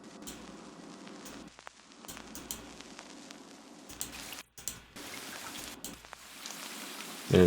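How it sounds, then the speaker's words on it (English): Steady rainfall patters as a soft, hissing background layer in a music track's intro, broken by brief drops and pauses, fairly quiet and without voices. "there's some raining in the intro"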